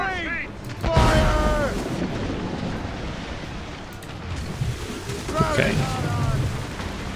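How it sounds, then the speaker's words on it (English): Mortar and cannon fire at sea in Assassin's Creed Rogue, two booming blasts a few seconds apart over rumbling wave and battle noise, with people shouting. "Mortars incoming."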